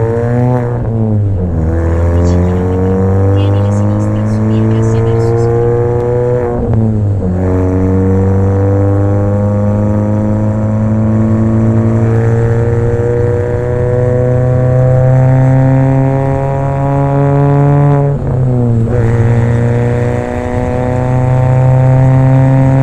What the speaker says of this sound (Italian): Andiamo a bancare la Mini.